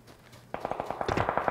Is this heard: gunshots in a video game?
yes